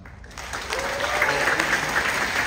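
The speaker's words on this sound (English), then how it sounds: "So please clap for the team for that." A school audience at a spring sports awards ceremony claps for a second-place team, a steady, dense applause that swells quickly after a brief quiet start and holds at full strength throughout.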